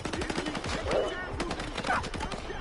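Rapid bursts of enemy gunfire in the shooter game S.T.A.L.K.E.R. 2, dense repeated cracks running through the whole moment with faint voices mixed underneath.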